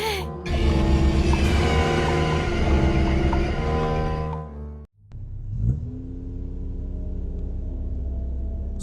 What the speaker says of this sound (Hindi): सुनसान सड़क पर राजेश और सुजीत गाड़ी ड्राइव करते हुए जा रहे थे।